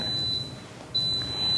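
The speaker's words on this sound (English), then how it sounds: "it's a pressure cooker with our beans" A pressure cooker of beans gives a high, steady electronic beep that sounds in two sustained stretches with a gap between, clear over quiet kitchen room tone.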